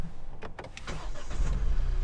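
A Kia Picanto GT-Line with a 3-cylinder turbo GDi engine starts up, a few sharp clicks and a cranking burst settling into a low, close, steady engine rumble.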